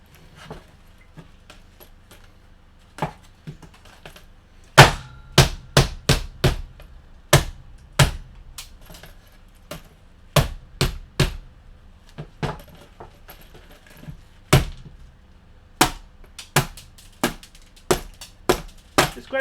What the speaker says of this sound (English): It's great how just one pop with the hammer, there goes the capacitor